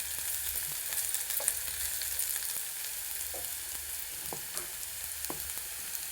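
Garlic fries in hot oil in a pan with a steady sizzle and scattered sharp crackles and pops, close and continuous, with no voices.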